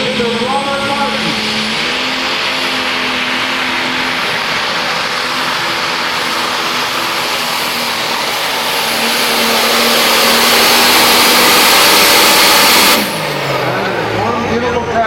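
A super/pro stock pulling tractor at a Frederick tractor pull, its engine screaming at high revs in a loud, sustained roar whose pitch climbs before cutting off sharply near the end, with an announcer talking over it.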